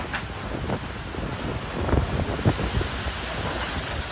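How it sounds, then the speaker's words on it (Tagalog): Strong wind roars continuously over the microphone during a storm in Kasiguran, Philippines, with rushing rain and occasional heavier gusts, no talking. "Sobrang lakas ng hampas ng hangin, pati na rin ang ulan dito sa Kasiguran"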